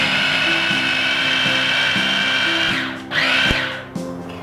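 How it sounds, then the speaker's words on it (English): A food processor blitzes toasted pine nuts into a fine pesto paste, a steady loud motor whir with grinding that falters and surges near the end. "you're just going to continue to blitz that until you've got a nice fine paste"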